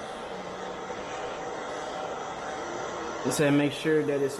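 A heat gun blows a steady, loud rush of hot air onto film for a car taillight overlay on a 2022 BRZ, while people talk over it.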